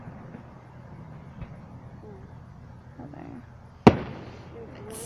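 A single sharp firework blast cracks out at night on a residential street, ringing off briefly after a stretch of low outdoor murmur and faint voices.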